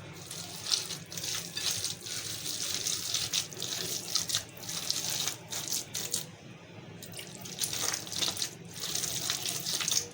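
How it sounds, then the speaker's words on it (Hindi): Water splashes and trickles into a bowl of pakora batter with onion in intermittent pours, with wet stirring sounds between them, fairly close and moderately loud. "अब थोड़ा थोड़ा पानी डाल के हम मिलाते रहेंगे।"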